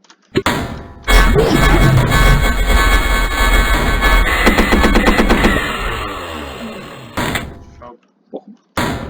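Tank gunfire in the video game AZ Tanks: rapid, dense bursts of shots with mechanical clatter and thuds, loud and continuous for several seconds before tapering off into short, sparse bangs.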